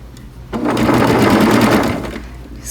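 A sewing machine runs steadily for a couple of seconds, stitching a curved seam, then stops; the sound is close and fairly loud, with no talking.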